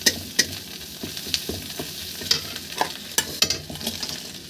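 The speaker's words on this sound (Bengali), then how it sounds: "এবার আমি এখানে ভাজা মাছগুলো দিয়ে দেবো এর মধ্যে।" Fried fish stirred into a cooked, browned spice mixture in a home kitchen pan, with sizzling oil and scraping spatula strokes giving sharp clicks over a constant frying hiss.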